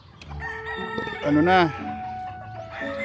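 Chickens on a gamefarm cluck and a rooster crows nearby in the heat of the day, layered bird calls close by with someone speaking briefly over them.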